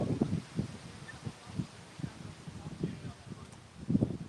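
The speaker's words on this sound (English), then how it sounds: "It is so windy out here" Strong outdoor wind buffeting the microphone in irregular low gusts, loud and close, with no other clear sounds.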